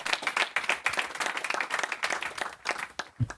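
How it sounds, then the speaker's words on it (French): An audience claps after a presentation at a conference on digital audio advertising, a modest group's dense, rapid applause heard fairly close and continuing steadily before tapering off at the end. "on peut l'applaudir."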